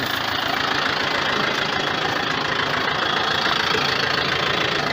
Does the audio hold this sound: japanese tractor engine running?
yes